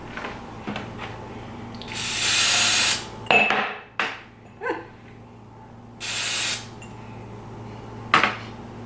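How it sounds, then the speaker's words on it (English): Pam cooking spray hisses onto small glass jars in two loud, sustained bursts of about a second each, mixed with clinks and knocks of the jars being handled. "you saw me just spray these little jars with Pam"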